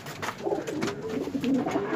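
Racing pigeons coo softly and close by in a continuous, burbling murmur, with several overlapping calls rising and falling while the birds are being prepared for a village race.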